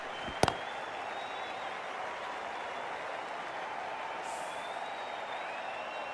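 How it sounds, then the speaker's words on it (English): A distant stadium crowd in the Cricket 24 video game cheers and applauds steadily after a boundary four, a constant wash of noise with a sharp knock near the start and faint commentary over it. "The crowd love that one."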